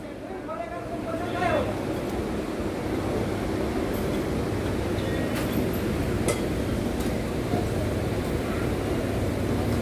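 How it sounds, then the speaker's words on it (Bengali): A Godda–Sealdah MEMU passenger train pulls out of a station with a steady, loud rumble that lasts throughout. A short horn-like tone comes at the start, and people talk over the noise. "গোড্ডা শিয়ালদা মেমো ছেড়ে দিল আমাদের আগেই"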